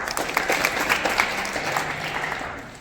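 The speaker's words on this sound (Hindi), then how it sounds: "ताली बजा दो" A group claps in brief applause, a dense burst of hand claps that holds steady and then tapers slightly, with no talk over it.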